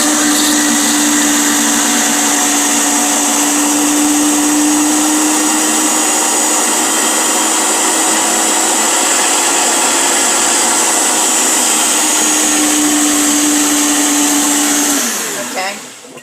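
A blender whirs loudly and steadily for about fifteen seconds while blending homemade mayonnaise from simple ingredients as oil is slowly added, then winds down and stops.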